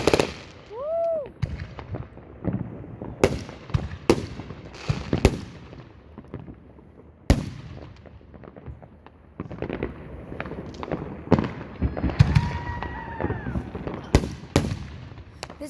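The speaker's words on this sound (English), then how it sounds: "This is gonna be like 20 minutes worth of fireworks." Fireworks at a firework airshow, a rapid series of booms and crackles with a couple of whistling rising shells, near and loud, repeating across the whole stretch with no talking.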